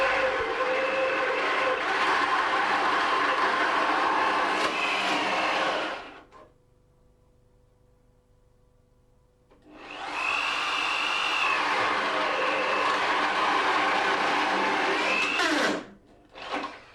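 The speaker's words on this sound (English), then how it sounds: "With a flat-bladed wood bit, cut 2 holes into the panel." A power drill with a flat-bladed wood bit boring holes into a wooden panel: two long, loud, steady whirring cuts separated by a few seconds of near silence, the second ending abruptly.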